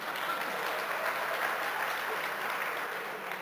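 Steady applause from an audience, dense clapping that holds at an even level throughout without pause.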